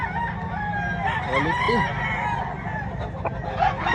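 Roosters crow and cluck at a cockfighting expo in Mantalongon, Barili, Cebu, amid a busy crowd murmur; someone speaks briefly over the birds.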